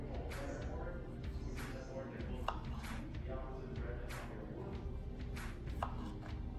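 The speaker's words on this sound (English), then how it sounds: "So you wanna kinda cut it in half, cut them in half again." A knife slices fresh strawberries for strawberry shortcake on a cutting board, with a series of short, crisp cuts at an irregular pace against steady background noise, while a person talks throughout.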